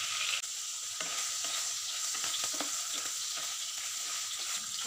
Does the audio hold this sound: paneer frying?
yes